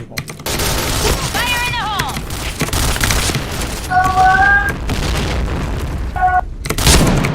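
Rapid gunfire in a Point Blank online shooter match, dense bursts of shots and booms running steadily throughout, with a few brief tonal game cues layered on top.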